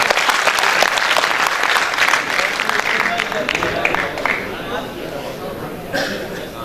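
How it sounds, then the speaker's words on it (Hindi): Loud, sustained applause from an audience welcoming a poet at a youth mushaira in Indore, dense clapping that gradually thins toward the end. "आप इस्तकबाल कीजिए अपनी तालियों की गड़गड़ाहट से"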